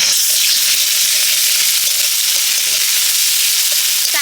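Chopped onion sizzles steadily in hot oil with ginger garlic paste and green chilli, a loud continuous hiss with faint stirring clicks and no voices.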